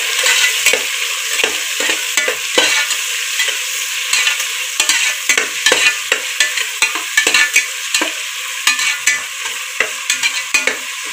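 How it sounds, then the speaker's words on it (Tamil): Onions sautéing in a pan for vegetable rice: a continuous sizzle broken by frequent short scraping strokes of a spatula, close and fairly loud, with no voices. "இதில் வெங்காயத்தை சேர்த்துப்போம். நல்லா வதங்கட்டும்."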